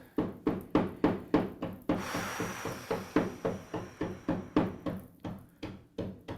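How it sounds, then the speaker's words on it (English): Steady hammering on wood nearby, about three sharp knocks per second in a regular rhythm, with a brief rasping scrape between runs of strikes. "Sorry for the hammering."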